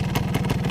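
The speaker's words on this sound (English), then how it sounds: "It's idling great, it runs great, it revs out all the way" A 1973 Suzuki TS250 motorcycle engine idles close by with a quick, even, throbbing pulse, loud and alone in a very brief burst.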